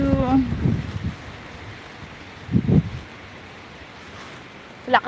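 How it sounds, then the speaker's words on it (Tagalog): Strong wind buffets a microphone outdoors on a street during a walk, making a steady, rushing roar. Brief snatches of voices break through a few times. "Lakas ng hangin."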